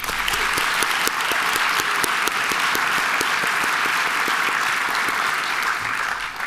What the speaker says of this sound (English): I wonder if we can clap for all of them